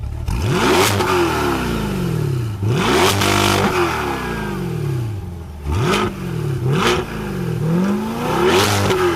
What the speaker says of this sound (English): It's a V8 naturally aspirated. It sounds so good. It sounds very aggressive.